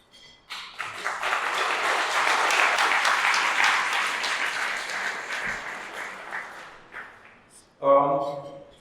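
A banquet crowd breaks into applause for customer racers: the sound swells quickly into a broad, dense wash of clapping, holds for several seconds, then fades, and a voice begins speaking at the end.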